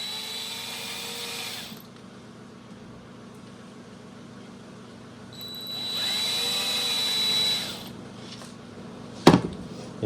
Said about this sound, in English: With the drill again.